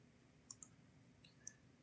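Computer mouse clicks while texturing 3D building faces in GIS software: two sharp close clicks in quick succession, then a few fainter clicks, over a quiet hum with no talk.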